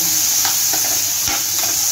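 Cubed potatoes hit hot oil with a loud, close, continuous sizzle, a few soft stirring knocks rising briefly over the hiss.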